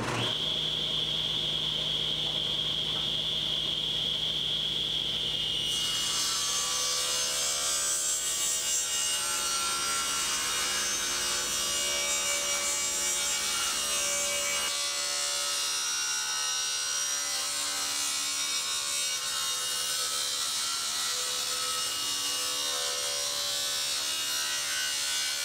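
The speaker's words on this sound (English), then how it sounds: "So of course we're starting at the table saw." A table saw rips square stock from wood, its motor whining steadily before the blade bites in and a loud, broadband cutting roar fills the rest, easing off toward the end with no talk.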